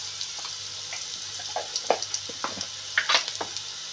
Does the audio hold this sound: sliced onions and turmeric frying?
yes